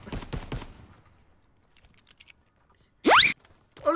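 Gunfire from Call of Duty WW2, likely an M1 Garand, sounds as one short, loud burst of shots late in the moment, after a faint stretch of quiet movement, with no talk over it.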